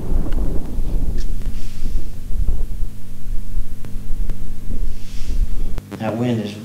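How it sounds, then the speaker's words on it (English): Wind blowing on a golf course, heard as steady low buffeting on the microphone with rumble and thumps, while someone talks over it. "That wind is really blowing."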